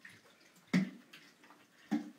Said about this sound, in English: My water bottle's making noise because I drank.